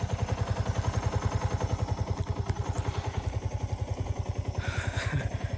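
A motorcycle rides along a newly built mountain road with a steady, fast-pulsing engine thump, loud and close throughout, with some brief rattles and clatter near the end.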